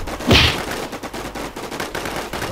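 Gunfire in the online shooter WarZ: one sharp, loud shot cracks out near the start, then quieter scattered pops and background noise follow.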